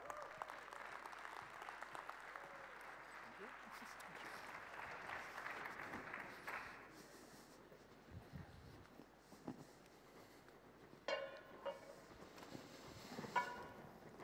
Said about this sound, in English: Please give our panelists a huge round of applause.